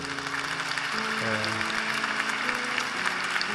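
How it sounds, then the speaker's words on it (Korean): Applause from a church young adults' evangelism gathering crowd, a steady wash of clapping under sustained music tones, moderately loud and continuous throughout. "큰 박수로 한번 축복해 주시겠어요?"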